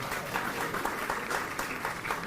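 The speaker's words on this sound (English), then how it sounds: "How about one more round of applause?" A crowd at the Texas Rose Festival Parade announcement gives the parade committee a round of applause, steady moderate clapping heard from a slight distance.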